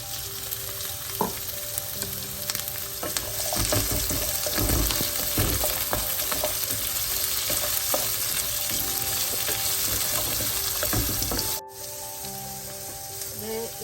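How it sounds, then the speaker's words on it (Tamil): Pumpkin pieces frying with sautéed onions in a pan for Sri Lankan-style sambar, a steady close sizzle with stirring scrapes and crackles, heard alone with no talking. "வெங்காயம் வதங்கி கொண்டு வர நம்ம பூசணிக்காயை சேர்ப்போம்"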